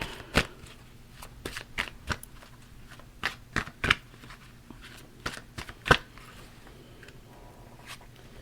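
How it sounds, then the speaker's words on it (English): Oracle cards from the Magical Times deck being shuffled up close, a run of crisp riffling snaps and soft slides at an uneven pace over a quiet room hum, with no voices. "Next, we're going to draw a Magical Times card."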